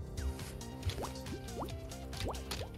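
Watery drips and bloopy liquid plinks in the game Bopl Battle, several quick rising droplet sounds spaced irregularly over a steady background.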